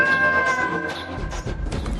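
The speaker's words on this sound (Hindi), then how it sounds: "जहां पहले से ही एक पालतू बिल्ली रह रही होती है" A pet cat meows in a home, a few short cries in quick succession, close and moderately loud, with no voices.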